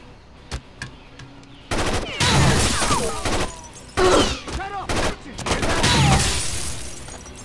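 Bursts of automatic gunfire in a firefight in Rainbow Six Vegas 2. Loud rattling volleys start and stop in clusters, mixed with crashes and scattered single shots, with voices calling out between the bursts.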